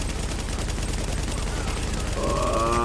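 Sustained enemy gunfire in The Division, a rapid unbroken rattle of shots close and loud, with a ringing tonal sound rising near the end.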